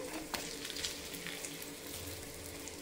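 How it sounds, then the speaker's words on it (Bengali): Flour and egg snacks fry in a pan, giving a faint, steady sizzle with small pops and soft crackles, close by and without talk. "আরও 1 পিঠ আমি ভালো করে ভেজে নিচ্ছি।"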